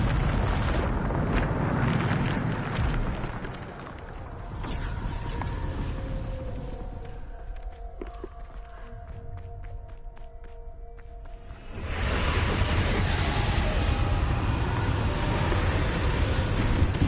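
Bombarda explosion spell in the Hogwarts Legacy video game, a loud, sustained rumbling blast with roaring debris that dips midway under tonal magical ringing, then surges back to full, dense roar.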